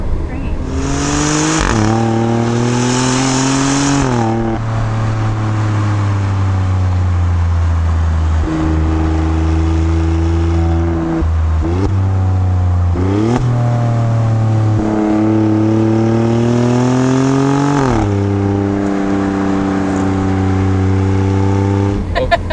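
A 2018 Alfa Romeo Stelvio Quadrifoglio SUV in race mode accelerates hard from inside the cabin, its engine rising loudly through repeated gear changes with short dips between pulls.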